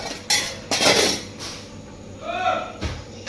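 Pots and dishes clatter and scrape in a household kitchen as they are scrubbed, with several sharp clinks and clunks close by and a voice speaking partway through.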